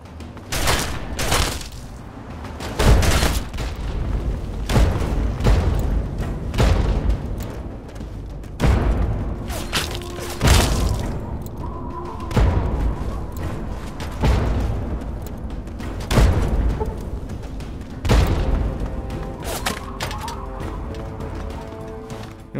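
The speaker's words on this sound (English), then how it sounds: "Frag grenade." Explosions and gunfire from Fallout 3 combat, with a frag grenade in play, boom out in a run of loud, heavy blasts and crashes spaced a few seconds apart, with ringing debris tails in between.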